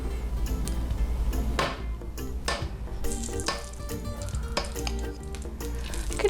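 Bacon grease sizzles and crackles on a hot griddle, a loud close frying hiss with intermittent sharp pops and scraping clicks throughout.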